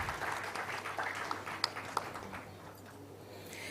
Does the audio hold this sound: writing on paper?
no